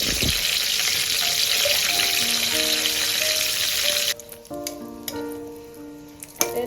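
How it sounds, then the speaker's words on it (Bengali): Steady, loud sizzling of bay leaves and dried red chilies frying in hot oil, which drops off partway through, leaving lighter crackles and a few clinks. "লাল লাল করে ভেজে নিতে হবে তেজপাতা আর মরিচটাকে"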